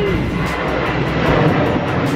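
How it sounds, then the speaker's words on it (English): An airplane flies overhead on a cloudy day in Jamaica, making a loud, continuous broadband roar that fills the whole moment with no letup. "That's a plane. That's a plane."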